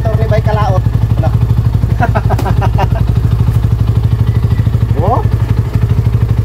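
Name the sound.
Rusi Sigma 250 motorcycle engine running after repair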